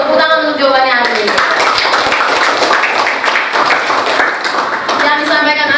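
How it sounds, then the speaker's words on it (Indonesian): A university classroom of students claps for a classmate's answer. The burst of applause swells through the middle and sits between stretches of talk at the start and end, with voices mixed in throughout. "Tepuk tangan untuk jawabannya Arif."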